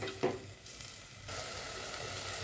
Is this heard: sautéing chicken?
yes